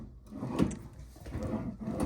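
A drawer in a Home2 Suites hotel room in Bismarck, North Dakota, slides open with a soft wooden rubbing and scraping that comes in a few low, close strokes.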